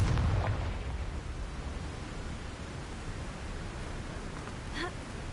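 A Confringo explosion spell from Hogwarts Legacy bursts at the start as a loud, broadband blast, then decays into a long, hissing rumble that fades over several seconds, with no voices.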